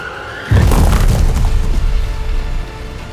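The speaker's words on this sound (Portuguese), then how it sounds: "o carro perdeu o controle e acabou batendo no muro" A Formula 1 car loses control over a kerb on the final lap and slams into a wall, a sudden loud booming impact followed by crunching, scraping debris that fades out.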